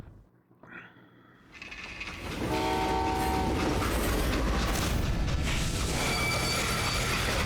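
A freight train in the Western game Call of Juarez: Gunslinger rumbles up from quiet into a loud, steady roar, with a sustained horn or whistle tone over the clatter of the wagons.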